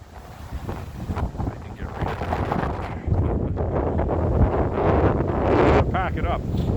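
Heavy wind blowing across a bay on a cold day, roaring and buffeting hard against the microphone in loud, gusty surges that intensify toward the end.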